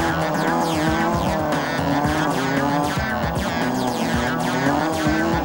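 Hillman Avenger rally car revving hard with wheels spinning in a greasy, muddy bog, a loud continuous engine roar with rising and falling pitch and tire churn throughout, no voices.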